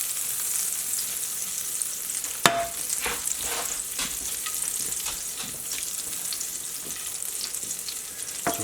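Butter melting and sizzling steadily in a hot pan for a keto steak dish, a close, even hiss with light crackles and one sharp clink of the pan partway through.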